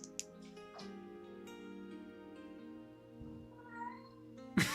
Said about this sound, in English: my cat's gonna start making a lot of noise